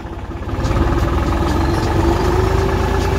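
A 2014 New Holland TT55 two-wheel-drive tractor engine runs steadily and loud while the tractor turns, a close, even mechanical idle-like drone with constant vibration throughout.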